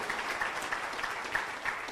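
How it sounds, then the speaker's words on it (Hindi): Steady applause from an audience honoring Mahatma Gandhi, dense clapping that stays fairly faint and even throughout, with no speech over it. "जोरदार ताली मारिए महात्मा गांधी के लिए, बापू के लिए"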